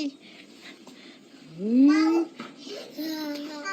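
A single drawn-out cat meow rises and falls in pitch, close and fairly loud, amid background chatter and children's voices.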